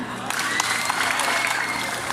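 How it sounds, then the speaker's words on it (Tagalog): Dense, continuous clapping from the audience at the Miss Gay Communal 2023 pageant in Cabanatuan City, Nueva Ecija, loud and steady, with faint cheering mixed in throughout. "Wala po bang palakpakan dyan?"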